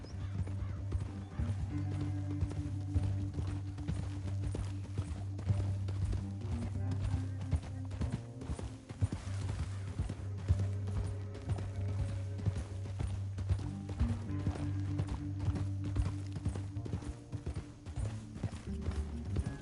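Steady clip-clop of horse hooves at a quick rhythm in Red Dead Redemption 2, continuous and fairly close, blended with a low droning background.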